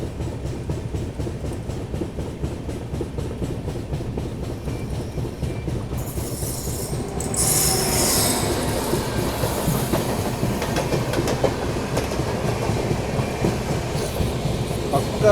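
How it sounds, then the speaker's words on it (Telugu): An LHB passenger train runs past on a parallel track beside a moving ICF coach train, rhythmic wheel clatter growing louder and denser as the passing carriages rush alongside. "ఇంకొక ట్రైన్ పోతుంది చూడండి జస్ట్ ఇప్పుడే"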